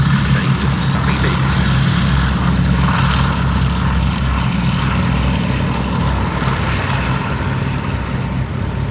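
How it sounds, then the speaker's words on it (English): A Boeing B-17G Flying Fortress four-engine propeller bomber flies past at a Duxford air show, its loud, steady piston-engine drone and low propeller thrum filling the air throughout, with faint background voices underneath. "one of the great favourites of any Duxford air show, the Boeing B-17G Flying Fortress"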